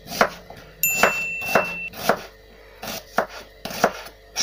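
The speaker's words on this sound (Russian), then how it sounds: "лучок нарежем мы вот так" A knife chops an onion into rings on a board, about ten crisp, sharp thunks at an uneven, unhurried rhythm, close and loud with quiet gaps between strokes and no talking.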